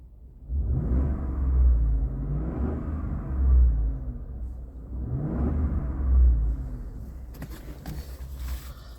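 Low rumble of a 2015 Ford F-150's 5.0-liter V8 through its factory exhaust, heard from inside the cab, steady with a few gentle swells of revving, fairly quiet and without talk.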